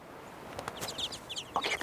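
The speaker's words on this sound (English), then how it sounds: "These chicks have just hatched." Newly hatched chicks cheeping at a nest with an adult bird present, a flurry of thin, high peeps starting midway and growing busier, close but fairly quiet over faint background hiss.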